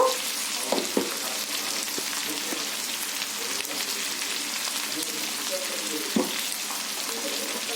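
Ivy gourd curry is stirred in a frying pan over a constant loud sizzle, with occasional soft scrapes of the spoon against the pan, close up, with faint talk in the background.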